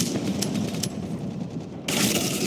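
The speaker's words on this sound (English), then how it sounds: "It's a shotgun." Rapid gunfire from a shotgun in the first-person shooter Black Squad, loud and dense bursts filling the clip with a sharp report near the end.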